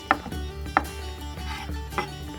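A knife rocks across fresh thyme on a cutting board, giving four sharp, evenly spaced chopping taps close up over a low background hum with faint music.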